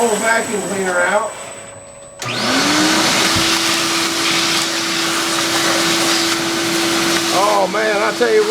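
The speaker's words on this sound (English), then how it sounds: "Then I get my old vacuum cleaner out." A vacuum cleaner switches on and drones loudly and steadily, with someone speaking briefly before it starts and again over the motor.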